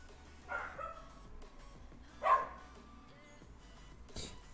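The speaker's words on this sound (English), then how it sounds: "If you hear the barking in the background," A dog barks faintly in the background, three separate short barks spaced about two seconds apart, the middle one loudest, over a quiet room hum.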